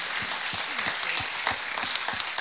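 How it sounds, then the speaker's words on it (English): Audience applause at a concert, a steady wash of many hands clapping throughout, moderately loud and close, with no talking over it. "So please give him another round of applause."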